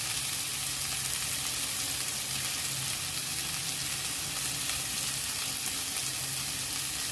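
Chopped green chilies and capsicum frying in hot oil give a steady, close sizzle that holds evenly throughout, with a faint stirring texture and no talking.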